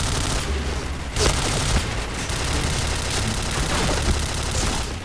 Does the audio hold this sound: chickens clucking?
no